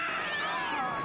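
Human voices imitate a cat's meow, dubbing a cat in a Russian translation of Power Rangers; a single drawn-out, wavering meow sounds close and clear.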